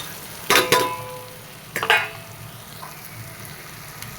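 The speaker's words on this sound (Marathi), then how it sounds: "कांदा टमाटर चांगलं नरम तेलात चांगलं छान असं नरम होवायचं." Onion, tomato and chilies frying in hot oil in a pan, with two short bursts of loud sizzling and stirring over a quieter steady crackle.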